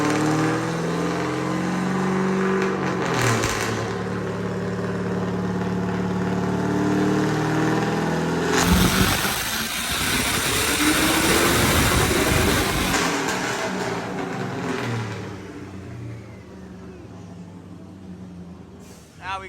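LS-swapped Lexus IS300 on a dyno, the V8 idling and droning steadily, then surging into a loud, sustained rev pull before easing off; close and dominant throughout.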